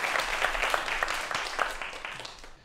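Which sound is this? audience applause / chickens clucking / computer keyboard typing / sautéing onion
audience applause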